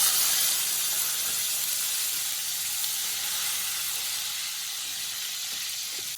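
Tomatoes fry in hot oil with bay leaves and cardamom for a katla fish curry gravy, giving a steady, close, strong sizzling hiss with no talk.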